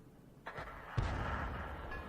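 Tank cannon shots in an online tank battle game, the target a T-29: a sharp blast near the half-second mark, then a louder boom a moment later that rolls on as a sustained rumble.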